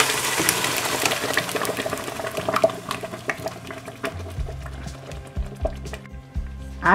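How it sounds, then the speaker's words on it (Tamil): Cooked rice and dal are tipped from a pressure cooker into a kadai, making wet, squelching plops and scraping that fade into softer bubbling and stirring, close by and fairly loud. "இப்போ வந்து குக்கரில் வேக வச்சிருக்கிற அரிசியும் பருப்பையும் இதில் ஆட் பண்ணிடலாம்."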